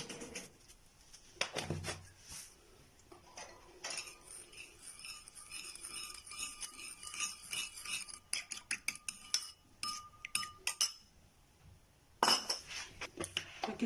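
A sardine marinade with water and tomato is stirred in a bowl, producing close, irregular clinks and scrapes of a utensil against the dish in short bursts, with birds chirping faintly in the background.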